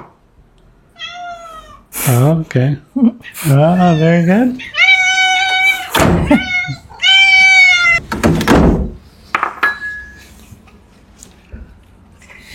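Several hungry cats meow repeatedly at feeding time, loud and close, with rising and falling cries in quick bursts; people speak briefly between the meows and a door or object thunks.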